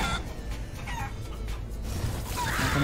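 A wild bird in Guacamelee 2 squawks with clucking, fowl-like calls over steady, loud background game noise and music.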